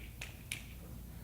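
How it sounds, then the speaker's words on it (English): Two quick finger snaps, close and crisp, a fraction of a second apart, over a low steady room hum during a hypnotist's stage show in a psychology class. "As I snap my fingers out of hypnosis"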